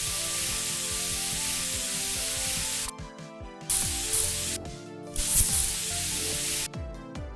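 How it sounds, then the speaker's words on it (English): Aerosol spray paint hisses steadily as black paint goes onto a small arcade cabinet built from a Game Boy, a long continuous spray broken by short pauses over quiet background music. "Next step was to spray paint it black"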